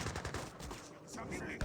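Dense gunfire rattles in rapid bursts against the Summer Palace during an Age of Empires 3 battle, loud and continuous with game effects layered over it.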